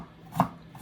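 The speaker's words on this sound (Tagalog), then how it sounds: "Pinuhin po natin ng hiwa." A single crisp knife stroke cuts through ginger on a board, close and brief, in a quiet kitchen with no talking.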